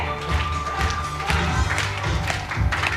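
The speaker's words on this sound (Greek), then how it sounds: "Πάμε παλαμάκια ψηλά" Children clap their hands high in a lively group, with uneven bursts of claps and thumps over a busy room murmur and faint cheering.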